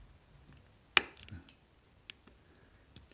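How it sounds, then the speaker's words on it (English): A blade cuts through a leg of a surface-mount IC, giving one sharp, close click followed by a few faint ticks in a quiet room. "if you sort of push a bit harder, you hear a click"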